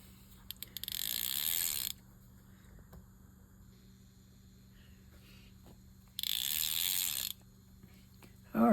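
Spool clicker of a Young Martin's Dolphin 580 fishing reel ratchets in two sustained close bursts during servicing, with faint handling clicks between and a brief sound at the very end.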